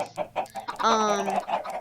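Chickens in a video game cluck and squawk in a short burst, one drawn-out, strained call standing out in the middle of the brief busy clucking.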